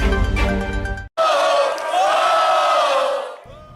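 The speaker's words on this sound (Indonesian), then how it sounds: "Sorakan para pendukung memberikan semangat kepada masing-masing pasangan calon di lokasi debat pertama" Supporters at the first Semarang mayoral and deputy mayoral candidate debate in 2024 roar and cheer as a dense, loud crowd, with a brief gap before a sustained wall of shouting.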